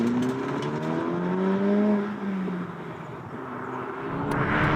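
A Honda Civic Type R FL5 pulls away under acceleration, its engine tone rising steadily and close, then easing briefly before climbing again.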